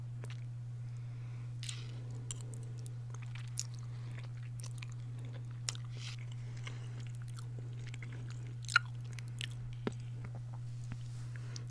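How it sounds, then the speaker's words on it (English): Close, quiet chewing and biting with soft crunches and wet squishes, scattered irregularly over a steady low electrical hum. "I don't know how many people like chewing sounds."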